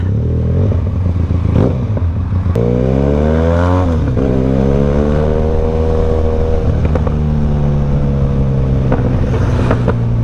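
Loud motorcycle engine riding on a hot road, steady drone with rising and falling pitch as the rider shifts and accelerates, wind rush throughout, no talking.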